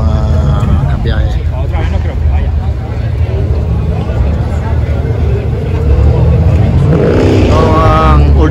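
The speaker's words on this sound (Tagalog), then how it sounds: "Ito ang old school na Ducati." An old-school Ducati motorcycle idles loudly among many cars and bikes gathered at Ace Cafe Barcelona, its engine rumbling steadily under constant crowd chatter and someone speaking.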